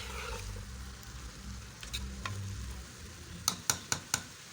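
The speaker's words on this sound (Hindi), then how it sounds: "मैं थोड़ा सा और भूनूंगी।" Potatoes, green beans and spices are stirred and fried in a pan, giving a close, continuous sizzle with scraping strokes, then four sharp spoon taps against the pan near the end.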